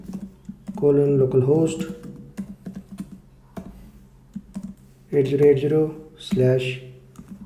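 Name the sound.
typing on computer keyboard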